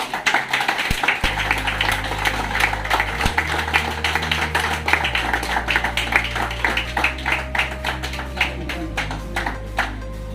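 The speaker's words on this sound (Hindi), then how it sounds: "एक बार जोरदार तालियां से उसका स्वागत करवाएं" Audience at a Delcon Homes award ceremony claps to welcome an award recipient, scattered near and far claps continuing throughout over a steady low hum.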